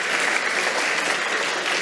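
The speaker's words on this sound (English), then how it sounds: "Okay, we can clap for that." A lecture audience breaks into applause, a short dense burst of many hands clapping at a steady, fairly loud level with no voices over it.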